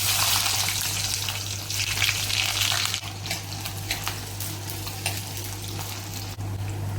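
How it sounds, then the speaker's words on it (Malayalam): Shallots frying in hot coconut oil in a pan for fish curry, a steady loud sizzle that eases slightly after a few seconds, with faint stirring scrapes. "ചെറുള്ളി ചേർത്ത് കൊടുക്കാം."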